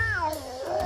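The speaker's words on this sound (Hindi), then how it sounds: "अरे कोई इस बिल्ली का मुंह बंद करेगा?" A peanut vendor's cat lets out a single drawn-out, wavering meow, close and fairly loud, with no talking over it.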